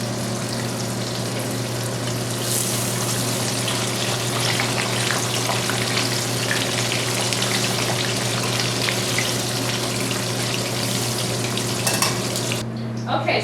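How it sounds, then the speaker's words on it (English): Steady sizzling and crackling of catfish fillets cut on the bias frying in hot oil, a constant dense hiss close by with a low hum underneath. "I cut them on the bias so that way they fry up fairly quickly"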